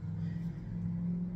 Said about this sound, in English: their truck is so loud next door